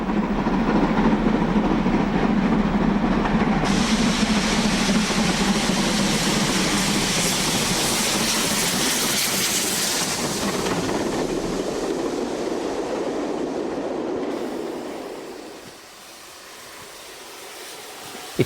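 A steam-era train runs past for most of the stretch, a loud, sustained rumble with a brighter rushing layer, and fades out toward the end.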